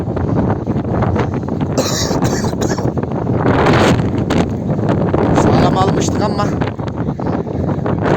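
Strong storm wind buffets the microphone at a worm-compost facility, a steady loud roar with gusty surges throughout and brief higher rattles near the start.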